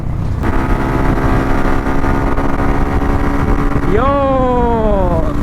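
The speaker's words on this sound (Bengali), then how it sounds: "থোটল ঘুরানোর সাথে সাথ বাইক উড়াচ্ছে" A motorcycle engine with a rebuilt engine idles with a steady drone, then the rider twists the throttle and the engine revs up sharply before easing back down, close and loud.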